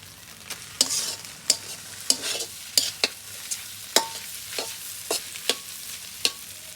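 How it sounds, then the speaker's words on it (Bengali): Fish roe frying in a pan, with a soft sizzle underneath and a run of sharp clicks and scrapes from a spatula stirring, close up and with no talk. "বন্ধুরা আমার ডিম ভাজা ভাজা হয়ে গেছে"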